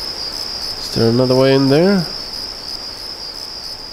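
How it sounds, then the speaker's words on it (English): Loud, steady cricket chirping from the video game Deus Ex fills the whole clip as a constant high drone, with a voice briefly speaking over it. "those crickets are loud as hell"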